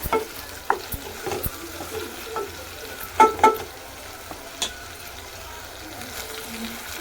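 Capsicum pieces fry in a pan while being stirred, a soft steady sizzle punctuated by sharp scrapes and clinks of the spoon against the pan, some louder knocks clustered near the middle.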